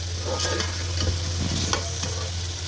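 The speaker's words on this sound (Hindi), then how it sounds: "अब इसको 2-4 मिनट तक भून लेते हैं गोश्त को" Boiled meat for Kabuli pulao sizzles and fries steadily in a pot while a spoon stirs and scrapes now and then, over a low constant hum.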